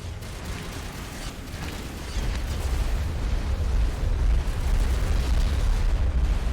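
Old grenade types exploding in combat in Mass Effect 1, heard as a continuous low rumbling blast that swells louder partway through and stays heavy, with no speech.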